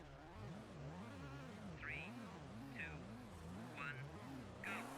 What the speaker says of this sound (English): the other car sounds like a Focus from this game